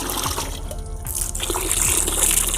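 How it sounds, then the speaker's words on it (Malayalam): Liquid effective microorganism solution pours steadily into a bucket, a splashing trickle that grows fuller and louder partway through, with a faint tonal background. "ഇത് ഞാനൊരു ബക്കറ്റിലേക്ക് ഒഴിച്ചു കൊടുക്കുന്നു"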